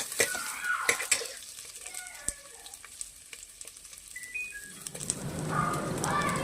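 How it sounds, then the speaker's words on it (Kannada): Onions, garlic, cinnamon, cloves and peppercorns fry in a pan with repeated clinks and scrapes of a utensil against metal, and a louder crackling sizzle builds toward the end. "ಚೆನ್ನಾಗಿ ಫ್ರೈ ಮಾಡ್ಕೊಳ್ಳಿ."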